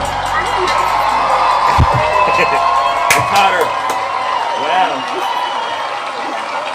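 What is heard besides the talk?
crowd cheering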